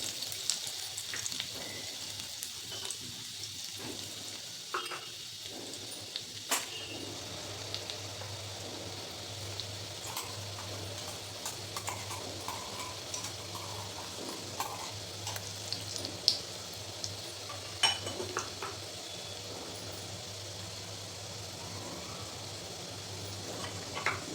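Finely chopped garlic sizzles in hot oil in a kadhai, a steady, soft, continuous crackle and hiss heard alone at a modest distance.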